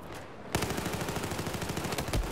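Rapid automatic gunfire in the Battlefield 4 shooter game, a dense continuous burst of bullets cracking loudly after a brief quieter lead-in, with heavier thuds near the end.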